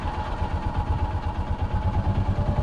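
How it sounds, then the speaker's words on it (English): Tracker OX400 off-road vehicle engine running steadily with a low throbbing rumble that rises slightly as the throttle opens, close and continuous with no talk. "if you hit the gas like here, it actually spins up the engine a little bit"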